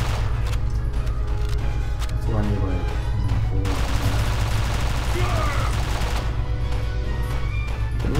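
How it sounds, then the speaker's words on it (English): Continuous loud gunfire from James Bond Quantum of Solace, bullets fired in rapid bursts over steady game music and effects; no one speaks. "James Bond's like staring at the sky, firing bullets."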